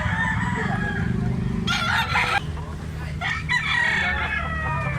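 Black hennie gamecock stag of Kelso bloodline crowing at close range in a loud, drawn-out cock-a-doodle-doo, with clucking from other fowl and a voice talking underneath.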